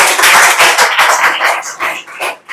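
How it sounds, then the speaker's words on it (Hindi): A class of tuition students claps loudly in a classroom, giving a close series of dense, uneven bursts of clapping that fade near the end. "जोरदार ताली बजा दो।"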